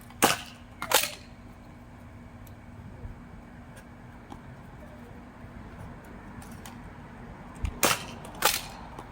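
A Nerf shotgun firing darts during a 100-dart challenge, its trigger faulty and firing inconsistently, gives a few sharp, loud pops in pairs near the start and end with quiet handling between.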